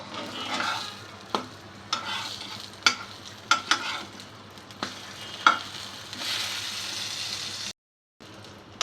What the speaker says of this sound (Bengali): আর আরেকদিকে বেগুন ভাজা হচ্ছে।